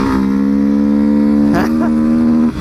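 A Honda XRE 190 motorcycle with a loud aftermarket exhaust idles and revs close by, a steady deep engine drone with strong harmonics, a brief throttle blip near the end, and no talk.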